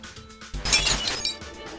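Glass smashes with a sudden loud crash and a bright tinkling spray of shards that rings on for about a second before trailing off, with no talk over it.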